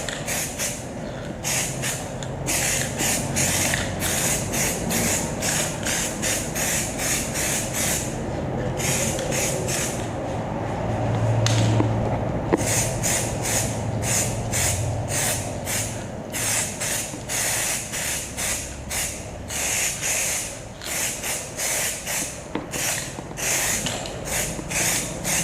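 Aerosol spray paint hisses onto a KMX200 motorcycle frame in a long run of short, light bursts with brief gaps, close and fairly loud, with no one talking.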